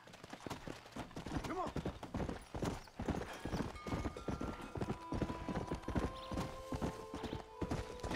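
Hooves of a galloping horse in the Red Dead Redemption video game pound in a fast, steady clip-clop rhythm, close and continuous, with faint game music tones underneath.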